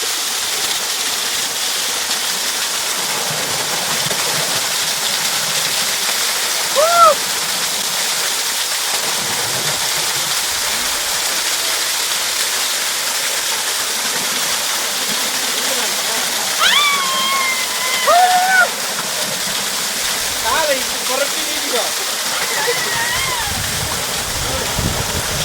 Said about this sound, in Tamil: ஃபைனலாக வந்துட்டு கும்பக்கரை அருவி ரீச் பண்ணியாச்சு.